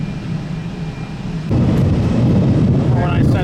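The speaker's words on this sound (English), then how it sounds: "You can hear the thunder in the background." Thunder rolls as a low, broad rumble during a lightning storm at an airport, swelling louder about halfway through under steady wind buffeting the microphone.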